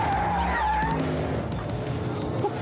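A Porsche SUV driven hard, with a loud engine roar and tire squeal from close by that hold strongly for under three seconds, the pitch sweeping as it corners.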